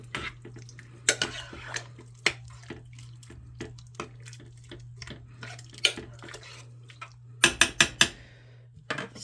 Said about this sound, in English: Yep, we're going to stir that up.